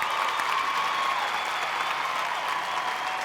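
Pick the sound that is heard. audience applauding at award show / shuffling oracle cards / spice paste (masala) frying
audience applauding at award show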